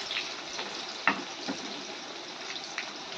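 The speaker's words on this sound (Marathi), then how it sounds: "मिरच्या परतून कांदा टाकायचा." Green chillies and onion fry in a pan with asafoetida, giving a steady, close sizzle broken by a few soft clicks and stirring knocks.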